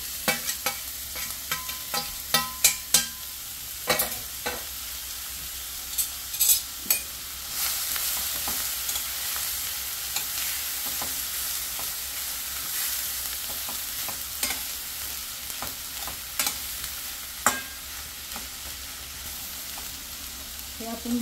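Vegetables for a veg club sandwich filling stir-frying in a hot pan over full gas, with a steady sizzle and frequent sharp clicks and scrapes of stirring throughout, fairly close and without talk.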